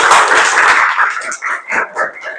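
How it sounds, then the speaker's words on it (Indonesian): A school class claps their hands together in a short, uneven burst of applause that thins into a few separate claps. There is no talking. "Tepuk tangan untuk kita semuanya."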